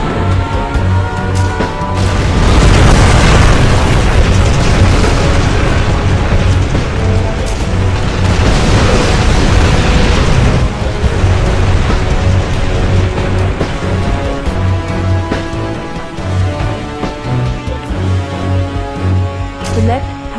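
A nuclear missile detonates in the Red Alert strategy game, a loud, sustained roaring blast with crackling rumble swelling and fading twice over the scene, then settling into lower ongoing din beneath steady game hum.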